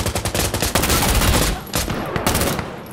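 Rapid automatic gunfire from hip-fire in Insurgency: Sandstorm, loud and close, a dense burst of shots followed by a few more sharp reports.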